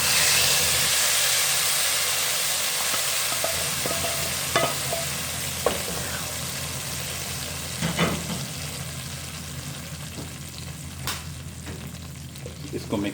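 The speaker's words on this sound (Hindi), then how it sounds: "अब इसके अंदर हम ये तड़का डाल देंगे।" Steady sizzling and hissing of hot oil tempering poured into mixed dal, with a few soft clinks and stirring sounds scattered through, close and fairly loud.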